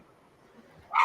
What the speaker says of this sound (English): Okay, so whose dog is that barking?